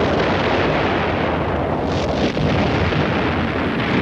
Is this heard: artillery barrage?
yes